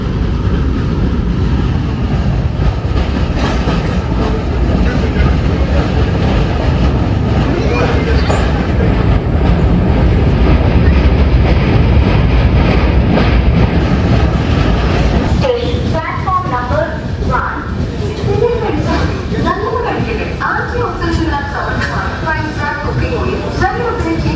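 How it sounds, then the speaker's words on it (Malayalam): Sabari Superfast express running over the Periyar river and into Aluva railway station, a loud continuous rumble of wheels and carriages that shifts into rhythmic clattering as the train slows, with a voice talking over it. "അങ്ങനെ പെരിയാർ നദി കടന്ന് നമ്മൾ ആലുവ റെയിൽവേ സ്റ്റേഷനിലേക്ക് ഇപ്പോൾ കയറിക്കൊണ്ടിരിക്കുകയാണ്."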